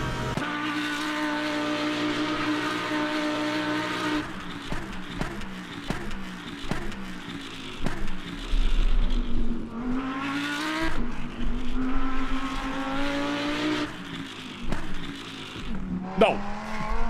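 A McLaren GT3 race car in the Le Mans Ultimate sim racing game during a GT3 sprint race, its engine revving and rising in pitch through repeated gear shifts, with brief tire squeals and steady, loud engine drone.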